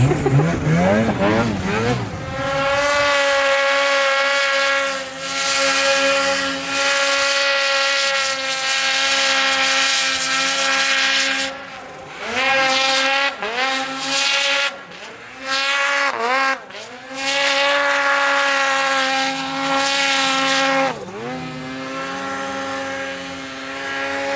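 A high-performance snowmobile fitted with BoonDocker go-fast parts revs hard and loud close by, its engine pitch sweeping up and down repeatedly with brief dips between bursts of throttle.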